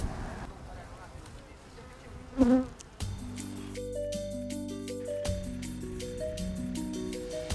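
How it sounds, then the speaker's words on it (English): Honeybees emerge from a honeycomb at a Sardinian hive with a soft, continuous buzz, partly masked by talk and then by tonal music notes that take over. "Do you see they're literally coming out of the honeycomb and being Eccola born?"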